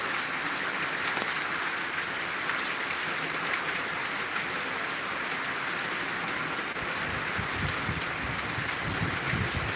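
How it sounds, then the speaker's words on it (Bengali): Heavy rain pours steadily on a street in Tangail, a dense continuous hiss with broadband wash; vehicles passing through the downpour blend into the roar, with low rumbling swells near the end. "এখান দিয়ে গাড়ি চলছে বৃষ্টির মধ্যে প্রচণ্ড বৃষ্টি"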